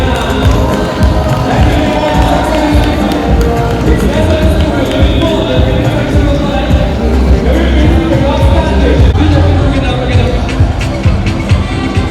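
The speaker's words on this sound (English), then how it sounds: "Ladies and gentlemen, a resounding round of applause for them." A large crowd at an education week event in Edo claps and cheers in a continuous loud roar that holds for the full stretch, with voices mixed into the din.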